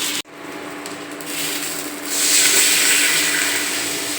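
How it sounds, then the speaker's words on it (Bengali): Rice and lentil mixture tipped into a cooking pot over parboiled potato, pumpkin and carrot for khichuri, a sudden rushing, grainy pour that swells midway and carries on steadily, close and fairly loud. "চাল ডালের মিশ্রণটা এখন আমি হাঁড়িতে দিয়ে দিলাম"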